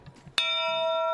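The dragon bell at Enoshima is struck once, giving a sharp strike followed by a loud, sustained bright ringing tone that holds steadily, close up, after a moment of quiet background murmur.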